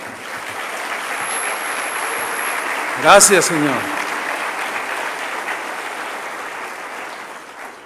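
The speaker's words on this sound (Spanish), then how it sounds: "Dele un aplauso al Señor." Congregation applause during a sermon on praise music in the Bible, a steady wash of clapping throughout with a short louder burst midway as someone speaks over it.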